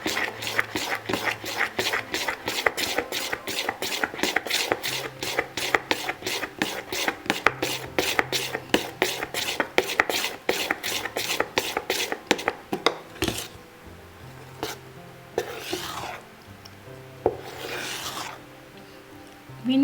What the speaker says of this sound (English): I'm mixing in one direction